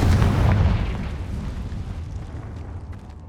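A Confringo fire-blast spell in the Hogwarts Legacy video game bursts with a loud, deep boom at the start, then rumbles and decays through a long, fading tail with no voices.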